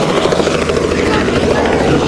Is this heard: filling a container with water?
no